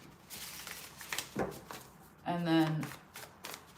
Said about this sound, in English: I'm just going to give these like one shuffle